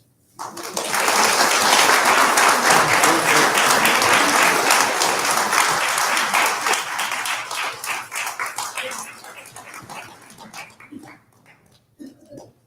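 A chapel audience bursts into loud, dense applause that holds strong for several seconds, then thins into scattered claps and fades out near the end.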